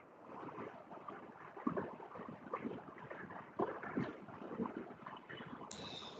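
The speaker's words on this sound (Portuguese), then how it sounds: "barulho de água, né?" Steady low water noise, like flowing or lapping water mixed with wind rumble, continuous and fairly faint with no talking.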